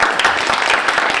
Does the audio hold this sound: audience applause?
yes